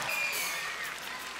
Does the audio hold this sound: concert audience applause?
yes